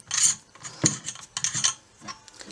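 Metal lightsaber pommel from a Saberforge 12W purple Venom Champion being unscrewed, a close run of dry clicking and grinding thread scrapes in short uneven bursts with no talking.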